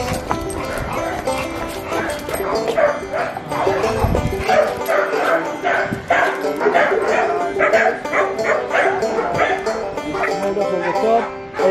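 Many dogs, including chow chows, bark and yip continuously in a Melbourne kennel, loud and close, a dense overlapping chorus with occasional whimpers that goes on throughout.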